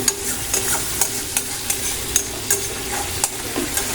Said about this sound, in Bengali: টমেটোটা একটু ভাজা ভাজা হলে জিরে গুঁড়ো।